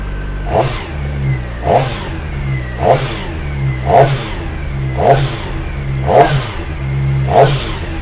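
An SRK450RR motorcycle engine idles close by and is blipped in seven regular revs, each a sharp rising burst about a second apart before dropping back to a steady idle.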